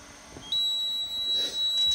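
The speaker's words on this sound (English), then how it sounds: "Got a buzzer for the oil pressure." Oil pressure warning buzzer on a lawn mower sounds as a steady, shrill electronic tone that starts abruptly and holds for about a second and a half, fairly close and clear.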